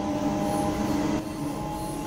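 A train runs in the Train Sim World 2 video game, a steady loud rumble with a sustained wheel squeal and tonal hum, shifting slightly in character partway through, no talk.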